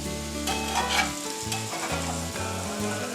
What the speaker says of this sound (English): These potatoes have been cooking about 10 minutes. You can see they're starting to get brown.